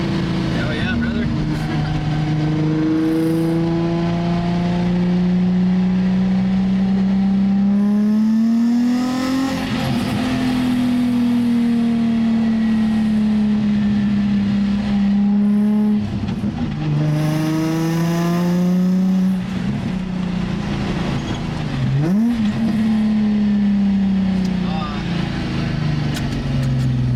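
A Nissan 350Z with a new titanium exhaust revs hard and loud up close, repeated sweeping climbs and drops with crackling rasp between pulls, while people talk excitedly over it.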